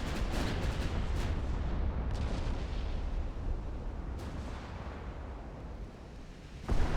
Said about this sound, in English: Another main belt pen from a 20-inch gun.